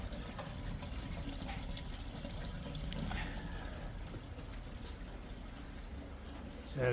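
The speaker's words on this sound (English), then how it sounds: "I know you can hear the rainwater coming down here." Rainwater runs steadily into a drain hopper on a commercial unit being demolished, a continuous close trickle and splash with a low rumbling wash and no speech.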